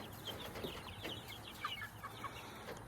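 A farm chicken that has slipped out of its pen clucks in a few soft, scattered bursts, faint and somewhat distant outdoors, with no talking.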